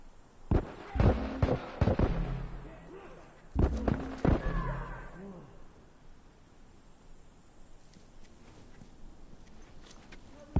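A bomb goes off in The Last of Us, a cluster of heavy booming blasts and thuds in two loud bursts a few seconds apart, then fading into a low hiss with a faint voice.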